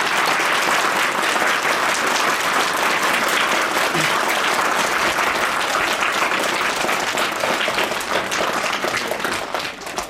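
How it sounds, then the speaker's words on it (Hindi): Students at a school function in Shimla give the guests a loud, sustained round of applause, dense clapping filling the whole stretch without letup before tapering slightly at the very end. "एक बार सभी बच्चे इनका जोरदार तालियों से स्वागत करें।"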